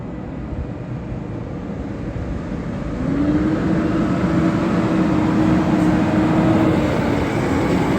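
A large Case farm tractor with a steering axle rolls in on demo, a steady low engine rumble that swells louder from about three seconds as it draws near, with no talk over it.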